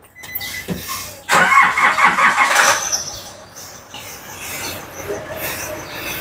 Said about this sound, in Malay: Jadi kita akan start nih kereta